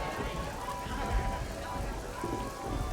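Rain from a 1978 album, fading in amid a carnival sound collage, a steady dense patter across the whole stretch with low rumbling underneath.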